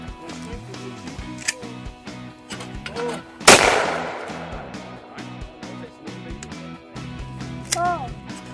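A shotgun blast at a youth dove hunt rings out once, loud and close, with a decaying tail; people talk and call out around it before and after.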